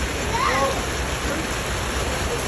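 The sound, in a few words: floodwater flowing during a super typhoon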